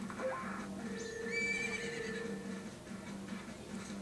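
A horse whinnies in the video game Majora's Mask, a clear rising-and-falling neigh near the start followed by game tones and a faint clip-clop of hooves, with no talking.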